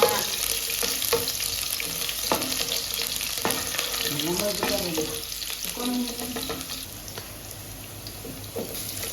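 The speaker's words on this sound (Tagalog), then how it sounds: "mainit na po yung kawali. Maglagay na tayo ng oil. Bawang muna." Garlic fries in hot oil in a pan, giving a continuous sizzle with scattered spatula scrapes and small crackles, fading slightly toward the end.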